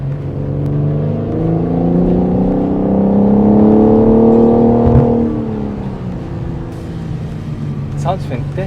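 A BMW M4 Competition coupe's twin-turbo engine, played through a synthetic sound system, pulls hard with its pitch rising steadily, then eases off to a lower hum, loud and close with voices talking over it.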